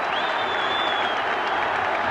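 A football crowd at Glentoran v Steaua Bucharest roars and applauds after a goal, a dense sustained cheer from a large stadium with a whistle cutting through.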